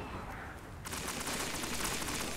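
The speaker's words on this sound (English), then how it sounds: "I hear gunfire." Rapid gunfire in the video game Destiny, a dense burst of automatic shots erupting suddenly and continuing steadily, fairly faint under the game's background.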